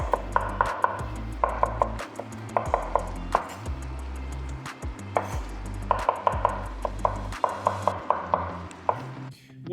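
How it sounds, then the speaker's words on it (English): An onion chopped with a knife on a cutting board, producing quick bursts of rhythmic thuds and taps in clusters with brief pauses between them, close and clear. "I'm going to chop up an onion"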